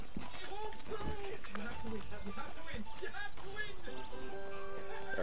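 A horse's hooves clop in quick rhythm in the Red Dead Online video game, close and steady beneath game music and several people talking over each other.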